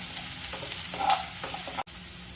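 Onion frying in oil with stirring, a steady close sizzle and crackle with a few scraping stirs, briefly cut off near the end before resuming.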